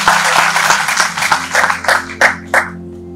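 Audience clapping at a seminar hall welcome, a loud, close burst of hands that thins into a few scattered final claps as it fades out.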